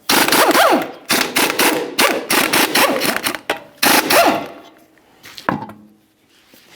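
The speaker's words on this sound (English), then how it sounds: "continue on to removing all 5 of your 22mm lug nuts and then the wheel" Lug nuts on a 2013-2015 Chevrolet Malibu front wheel are spun off with an impact wrench: several loud, close rattling bursts in quick succession, then quieter clinks of nuts and tools.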